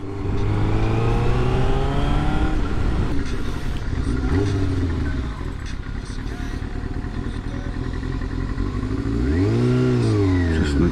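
Motorcycle engine fitted with a fake slip-on exhaust, revving repeatedly with rising and falling pitch, close and loud throughout, with a clattery mechanical edge.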